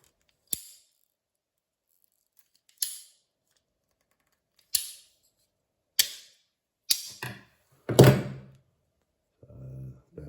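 Tubing is snipped into a short piece for a camera battery conversion, a series of about seven sharp, isolated cutting snaps spaced a second or two apart in an otherwise quiet room, followed by faint rustling handling.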